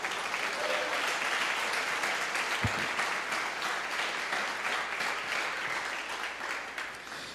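A church congregation claps for Jesus during a service, a steady, dense wash of many hands heard slightly distant and fairly soft, continuing for several seconds with a brief thump partway through.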